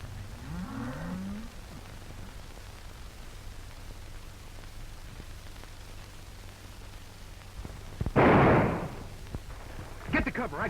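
Cattle low a few times in the distance over a steady background hum, and a couple of louder noise bursts sound near the end.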